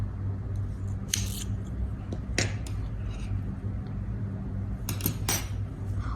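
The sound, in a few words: scissors cutting off the yarn end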